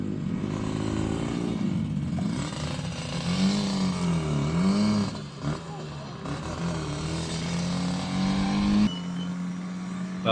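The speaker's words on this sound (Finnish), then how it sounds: "Mutta kuvataan nyt noita muita mopoja." Racing mopeds at a Finnish speed event buzz and whine past in succession, high revving engine tones rising and falling, fairly loud and continuous with a voice talking over them.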